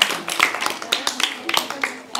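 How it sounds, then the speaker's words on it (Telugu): Scattered hand claps from a small group after a lively Telugu folk song sung together at a birthday celebration, sharp and uneven over a couple of seconds, with voices mixed in. "సూపర్ చప్పట్లు."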